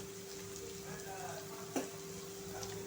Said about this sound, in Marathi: हे मसाले टाकून आपण हे छान असं मस्तपैकी फ्राय करायचं आहे, परतून घ्यायचं आहे